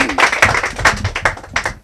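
A small group claps for Papa Gervais at a gathering, a short burst of close, uneven handclaps lasting under two seconds.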